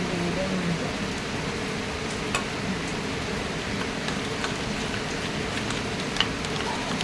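Steady rain falls outside a home in an even hiss that continues for the whole stretch, with a few faint drip-like ticks scattered through it.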